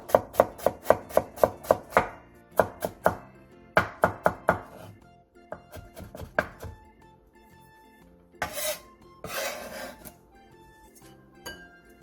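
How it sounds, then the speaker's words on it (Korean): A kitchen knife on a cutting board finely chops two scallions and a little carrot, giving a rapid run of crisp, evenly spaced taps that slows into scattered cuts and scraping, close and moderately quiet. "쪽파 2개와 당근 조금을 잘게 썰어주세요."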